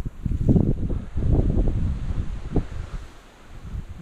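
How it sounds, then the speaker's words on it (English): Wind gusting hard across a microphone outdoors by the sea, a loud uneven low rumble that swells and eases in buffeting bursts for a few seconds, with no talk. "And it's windy."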